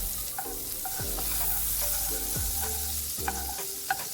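About a tablespoon of butter sizzles steadily in a pan, a constant close hiss with scattered light utensil taps over it and no voices.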